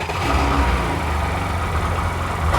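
A Sea-Doo engine with a spark checker fitted and an intermittent misfire turns over in a continuous, rough, mid-pitched mechanical churn, close by and steady for a few seconds.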